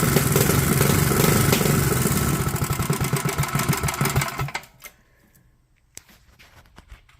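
A Duromax 208 small engine with a Rattlesnake cam and governor removed runs loud and rough, its idle sputtering and uneven before it falls away and dies, leaving a few faint clicks.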